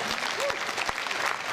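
Applause at a Swabian carnival (Fasnet) performance, with scattered claps rising over a crowd backdrop at moderate distance and a brief voice-like tone partway through.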